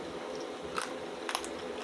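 A few crisp bites into crunchy roast pig (lechon) skin, close and fairly quiet, two short crackling snaps about half a second apart.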